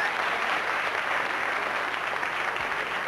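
Studio audience applause on a 1985 UTV Password game show, a steady dense clapping wash that holds for about three seconds with no talk over it.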